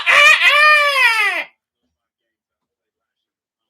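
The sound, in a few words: rooster crowing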